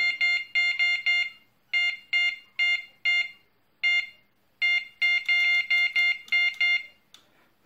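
An NSC Swinger fishing bite alarm detector gives clipped electronic beeps in quick bursts of three and four, with short gaps between the groups, clear and close, with no voices.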